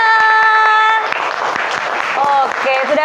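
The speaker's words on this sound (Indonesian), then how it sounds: "Tepuk tangan semuanya" Schoolchildren clapping in a classroom, brief scattered claps mixed with tonal sounds and chanting or sung voices, close and loud with children's voices throughout.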